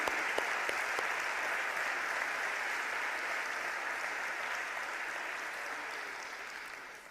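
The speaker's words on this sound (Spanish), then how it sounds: "Vamos a darle un gran aplauso a la palabra de Dios" A church congregation applauds after a reading from scripture, a steady wash of many hands clapping. The applause sounds somewhat distant and quiet, holding evenly before tapering off at the end.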